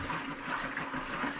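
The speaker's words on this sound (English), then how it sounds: "It only leaks when we turn on the faucet." Water runs through a leaking garden hose faucet with a steady, rushing hiss and gurgle, moderately loud and continuous, with no other sounds over it.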